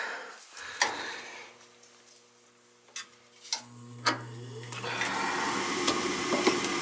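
A Ruud gas furnace with a no-heat fault on a very cold day tries to fire: scattered sharp clicks, then a low steady motor hum starts, followed by a rising broad rushing roar.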